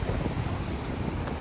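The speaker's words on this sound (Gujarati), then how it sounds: "આ નાગવા બીચ આવી ગયા છીએ અમે." Wind buffets the microphone at Nagoa Beach in Diu, a loud, rough rumble mixed with the wash of waves, brief and continuous.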